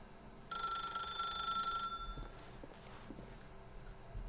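An old-style telephone bell rings in The Stanley Parable, a bright metallic trill lasting over a second, then stopping and leaving faint room noise and a few soft thuds.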